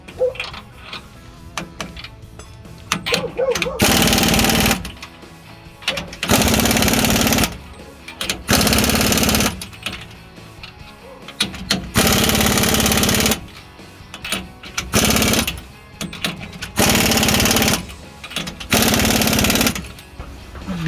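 Pneumatic impact wrench bursts tightening U-bolts on a 2007-2018 Chevy Silverado 1500 2-inch lift kit, about eight loud buzzing bursts of a second or so each, evenly spaced with short pauses between, working left to right and front to back.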